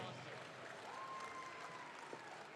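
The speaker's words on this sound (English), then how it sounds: "Can we please give a warm round of applause to all our Pearl sponsors?" An audience claps steadily for sponsors at an honoring ceremony, a dense, continuous round of applause at moderate distance with a faint tone and light crowd murmur beneath.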